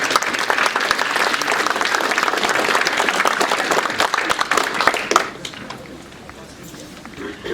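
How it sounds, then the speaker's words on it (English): Audience applauding a panel at a talk on the Chowilla dam controversy, a full, sustained round of clapping that thins out and fades after about five seconds, with voices under it. "So round of applause please for our panel."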